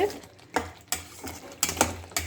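A spoon stirs a thick spiced crab gravy mix in a pan, making several distinct scraping clacks against the metal at irregular intervals over faint sizzling, close and moderately loud.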